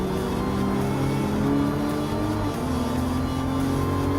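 Toyota Supra race car engine in Gran Turismo Sport, loud sustained drone at steady high revs with shifting pitch as it accelerates, close and continuous with no voices.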